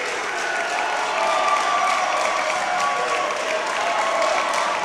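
A pro wrestling arena crowd gives a standing ovation, with steady, dense applause and cheering that fills the whole stretch at a loud, even level.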